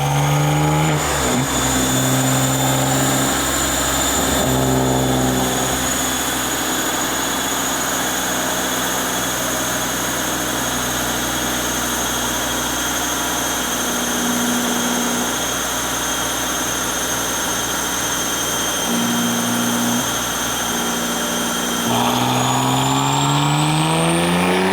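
A BMW M2 with an S58 engine on stock turbos roars continuously at high revs on a dyno, droning loud and steady with a turbo whine, then revving higher near the end.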